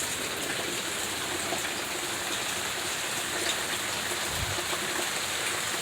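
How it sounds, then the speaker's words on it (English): Steady rain falls during a North West storm, a constant patter of drops on surfaces at even strength throughout, with no voices over it. "big storm coming. It is raining."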